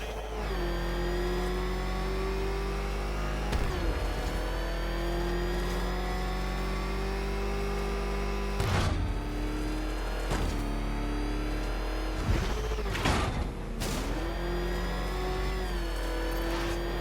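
The Batmobile's engine in the video game Batman: Arkham Knight: a steady, loud, continuous drone that holds throughout, with several sharp surges and revs breaking through near the middle and end.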